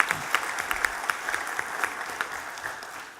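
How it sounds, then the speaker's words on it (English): An audience applauds throughout a political session at a regional firearms law convention, with a steady clatter of many hands, moderately close, fading slightly at the end. "Yeah, you can clap for that."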